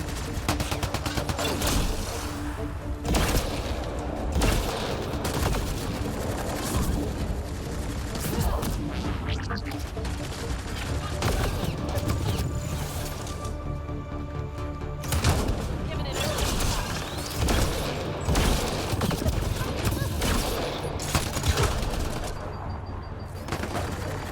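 Gunfire in the PC video game Mass Effect Andromeda, dense rapid bursts of shots and impacts in a fast continuous barrage with blasts layered over game sound.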